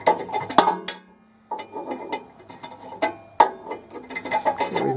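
A flathead screwdriver unscrews a plug, giving close, irregular metallic clicks and ratcheting scrapes in short bursts with a brief pause partway through.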